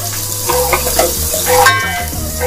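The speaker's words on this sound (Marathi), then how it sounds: "कांदा चांगला परतून घ्यायचा। म्हणजे कांदा परतताना खूप जास्त मी परतत नाही आहे। गॅस मी थोडा मीडियम ठेवलेला आहे।" Onion sautés in a pan over medium gas, giving a close, loud sizzle with stirring scrapes and a brief clink partway through.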